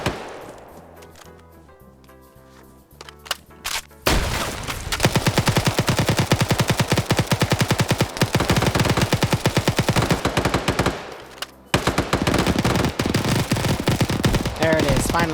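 Automatic gunfire in a multiplayer video game match, a long sustained magazine dump of rapid, loud, evenly spaced shots with a brief break before firing resumes.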